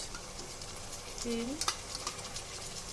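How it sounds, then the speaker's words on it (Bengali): A frying mixture for egg pulao is stirred in oil in a pan, producing a soft, low sizzle with a few scraping stir clicks near the middle. A faint brief tonal squeak sits underneath. "এবার ভালো করে নাড়তে থাকবো"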